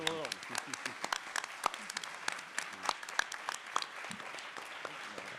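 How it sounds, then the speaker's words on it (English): Applause from an audience at a National WWII Museum event, a dense patter of many hands clapping that stays steady for several seconds before easing slightly, with a voice faintly under it. "what I would hope everyone can join me in is a little applause"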